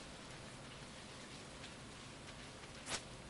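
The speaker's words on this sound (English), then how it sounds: "It's raining." Steady rain falling in a video game, a dense even hiss of drops throughout, with one brief louder splash or gust near the end and no voices.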